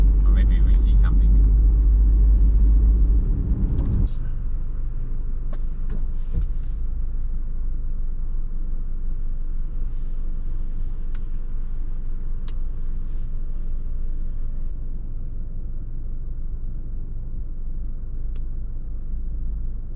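Vehicle driving along with a steady loud engine rumble and road noise throughout, heaviest in the first few seconds, with someone talking over it.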